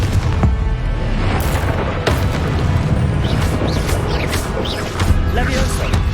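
Confringo explosion spell blasts in Hogwarts Legacy, heavy booming bursts that crash over a dense, continuous roar of battle noise, several impacts landing in quick succession.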